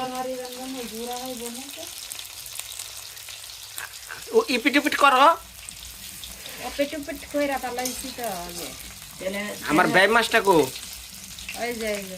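Frying food crackles and sizzles in a pan throughout, with louder bursts of hissing midway, while several people talk over it.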